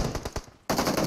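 Rapid automatic gunfire in an online shooter game, a burst of close, loud shots that stops briefly, then resumes with a second dense burst.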